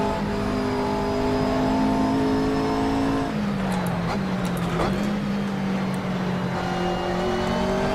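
A GT3 race car engine in the video game Assetto Corsa revs high and whines loudly, its pitch shifting as gears change, with brief sharp rasps partway through; no talking.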